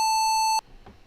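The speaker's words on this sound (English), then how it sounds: "Sorry about the beeping." Steady electronic beep from a Mario, Sonic or Castlevania ROM hack game, one long bright tone lasting about half a second, then cut off, leaving quiet background.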